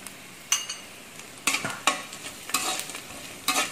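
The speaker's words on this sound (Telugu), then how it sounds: "దాన్ని కూడా ఒక 1 సెకను నూనెలో వేగనివ్వాలి" Cumin powder frying briefly in hot oil, heard as a steady low sizzle broken by several sharp bursts of spattering and stirring scrapes.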